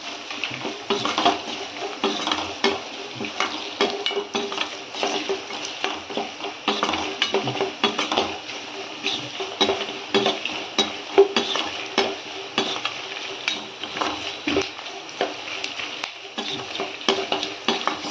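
Peanuts and curry leaves fry and crackle in a hot pan for curry leaf rice, with a steady sizzle broken by frequent scraping stirs of a utensil against the pan, close and continuous, with no talking.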